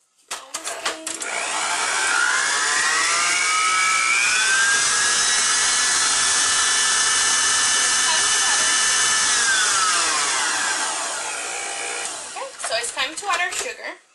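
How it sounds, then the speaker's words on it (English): An electric mixer whisks white chocolate cream cheese buttercream in a steady, loud, continuous whir lasting about eleven seconds, with brief clattering bursts just before it starts and after it stops. "Keep on whisking."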